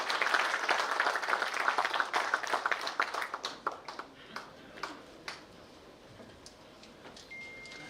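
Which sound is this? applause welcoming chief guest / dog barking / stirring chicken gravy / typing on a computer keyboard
applause welcoming chief guest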